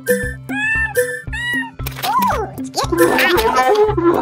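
A cartoonish cat in the Super Granny 3 video game meows repeatedly in quick, bright bursts over a steady rhythmic game soundtrack, ending amid busier music.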